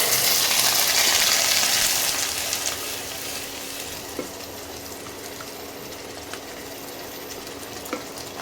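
Ground onion paste hits hot mustard oil with a loud, close, hissing sizzle that gradually eases into a steadier, softer fry, with occasional small pops and no talking, while a mutton kalia is being cooked.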